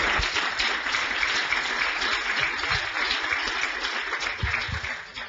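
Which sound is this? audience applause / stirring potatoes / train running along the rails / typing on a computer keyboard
audience applause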